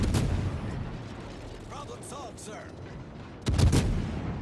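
Ship anti-aircraft guns firing at planes in the naval video game World of Warships: bursts of gunfire and booming shots, with a loud blast near the end, mixed with a voice speaking.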